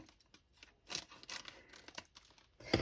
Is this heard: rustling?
yes